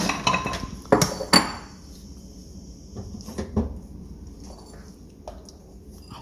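Keto green enchilada soup is ladled into a bowl, with sharp metallic clinks of utensils against pots and dishes up front, then quieter scattered knocks and taps.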